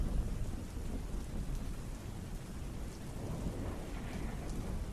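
Heavy rain pours steadily in a thunderstorm, with low rumbling thunder rolling beneath a dense, constant hiss. It is loud and continuous throughout, with no voices.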